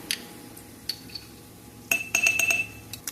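A metal spoon clinks sharply against a glass jar while minced garlic is scooped in, a few quick bright taps in a quiet kitchen, close and without talk.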